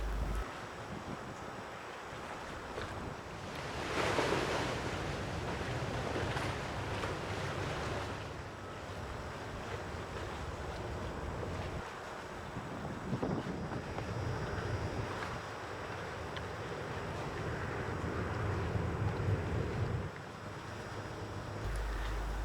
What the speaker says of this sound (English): As the Coast Guard boat moves up the Hudson River